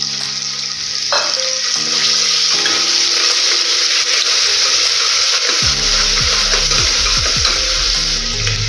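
A garlic, ginger, clove, chili and cinnamon paste hits a hot pan for spiced rice, bringing loud continuous sizzling and frying with scraping stirs toward the end and no talk.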